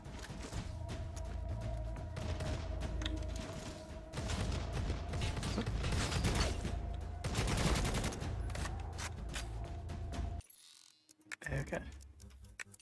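Shotgun fire in the video game Necromunda: Hired Gun, a dense run of loud blasts and rapid clattering gunfire with mechanical clicks, continuous for about ten seconds before cutting out to near silence and a few faint sounds.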